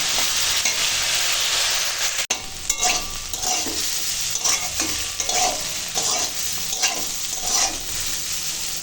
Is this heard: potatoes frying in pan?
yes